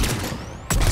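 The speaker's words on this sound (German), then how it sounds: "Da drüben schießt es auch noch." Gunfire in Mass Effect 3 rattles as a steady burst of shots, then a louder, closer blast kicks in near the end, with no talk.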